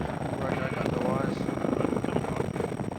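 A steady, loud rescue helicopter's rotor and engine drone fills the whole stretch during an approach in Australia, with a continuous rhythmic chop and no pauses.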